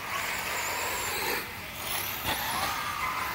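Mini-truggy and short course RC cars race past near the finish line, giving a continuous high-pitched whine of electric motors that rises and dips as the cars pass.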